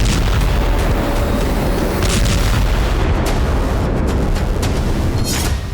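Explosions from drone strikes on Crimea near Sevastopol make a continuous heavy rumble with dense booms, loud and distorted throughout, with no talk.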